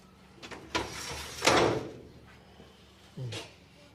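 An aluminum sliding door on a house is opened or closed, giving a few scraping slides and one louder rolling rush near the middle, then a short thud, all close by with no talk.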